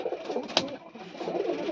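Old domestic pigeons cooing close by, soft throaty burbling coos running through the short stretch with a brief flutter or knock in the middle.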